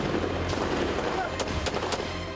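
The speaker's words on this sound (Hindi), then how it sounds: "नाइट विजन कैमरा से यूक्रेन के समुद्री ड्रोन को देखा और ड्रोन पर मशीन गन से फायरिंग शुरू कर दी" Machine gun fire is aimed at a Ukrainian sea drone by Russian forces at sea at night. Several sharp bursts sound over a loud, dense roar of background noise, and a voice may be present.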